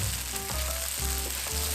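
Tofu pan-frying until golden and crisp, a loud continuous close sizzle and crackle of hot oil with faint pulsing stirs, no talking.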